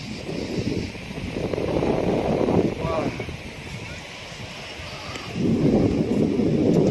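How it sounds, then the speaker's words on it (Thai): Wind buffets the microphone at a seaside sunset viewpoint, arriving in strong gusts that swell and fade, with someone speaking over it at times. "วันนี้ลมดีนะฮะ"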